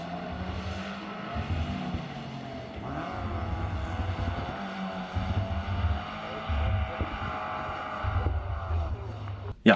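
Mazda MX-5 Miata with a welded differential drifting on a wet road, its engine droning steadily with rising and falling revs, a moderately close and continuous sound with a low rumble and faint tire noise throughout.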